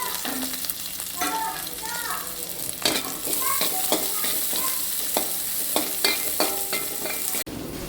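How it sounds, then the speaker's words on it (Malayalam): Mustard seeds crackle and sizzle in hot oil up close, with scattered pops and scraping stirs throughout. "നമുക്ക് എല്ലാം കൂടിയിട്ട് ഒന്ന് കടുക് വറുത്തെടുക്കാം"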